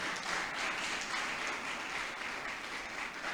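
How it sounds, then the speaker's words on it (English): Lecture audience clapping at an international guest lecture, a soft, steady patter of many hands heard from a distance and fairly quiet. "I'm sure that clap was for me. Can you do a better one for my president?"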